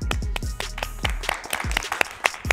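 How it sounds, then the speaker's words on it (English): An audience claps for competitors at an art school competition, with scattered claps and thumps swelling and thinning over a couple of seconds, fairly close and moderately loud. "Round of applause for all of them."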